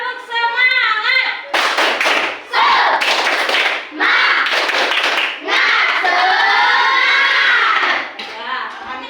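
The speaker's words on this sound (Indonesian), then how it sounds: "Tepuk semangat!" Schoolchildren in an Indonesian classroom perform a spirited clapping chant, loud rhythmic claps in bursts alternating with shouted chanting voices, near and energetic, led by a teacher.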